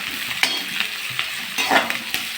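Onions sautéing in a pan for paneer butter masala gravy, a steady close sizzle broken by a handful of sharp scraping stirs of the spoon against the pan.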